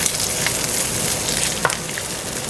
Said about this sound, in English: I'm going to add my onion, and I'm going to saute this for just a few minutes